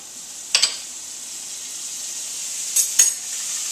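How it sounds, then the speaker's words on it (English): Chicken browns in butter in a pan with a steady, bright sizzle. Two short bursts of scraping or turning break through the frying, and no one talks. "we're going to take some chicken. We're going to just brown it on each side. I'm going to use a little butter"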